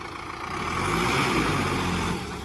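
A Sonalika 60 RX Turbo tractor engine revs up with a rising turbo whistle riding over the low rumble, then eases off near the end.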